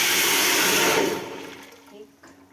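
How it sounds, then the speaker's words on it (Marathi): Water gushes loudly into a large metal cooking pot for about a second, then the pouring tapers off into trickles and faint splashes as it settles. "तर त्याच्या निम्म मी पाणी घालणार आहे"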